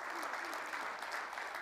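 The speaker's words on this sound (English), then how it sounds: "Worth clapping about." An audience at a township state-of-the-township address breaks into steady, even applause, a continuous wash of clapping from a hall full of people, sustained throughout the short moment.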